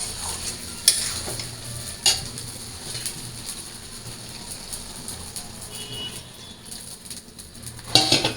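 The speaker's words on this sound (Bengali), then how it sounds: "এবার আমি জল দিয়ে দিই।" A curry in a pan keeps up a steady, low sizzle with occasional sharp clinks of a utensil against the pan as it is stirred, close and fairly quiet throughout, with a brighter splash of sound near the end.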